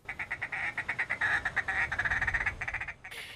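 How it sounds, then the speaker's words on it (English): A duck call app on a smartphone gives a rapid run of nasal quacks in a steady rhythm. The quacks are fairly loud and close, with no voices over them. "Yeah, that quacking is coming from a smartphone."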